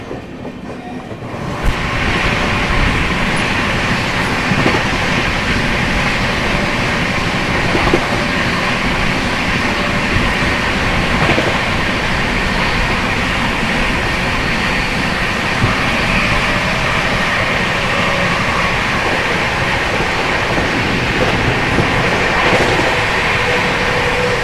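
Mahabodhi Express train running at speed just after leaving Naini Junction, a steady loud rumble with rhythmic wheel clatter from a few seconds in, continuous throughout with no talk.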